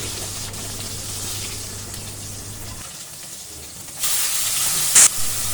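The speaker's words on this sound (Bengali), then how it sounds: "দেখো আমার মাছগুলো ভাজা হয়ে গেল। এখন আমি একে একে মাছগুলো তুলে নিচ্ছি।" Hilsa fish sizzling in hot oil as the pieces are lifted out one by one, a steady frying hiss that swells louder near the end with a sharp brief spike.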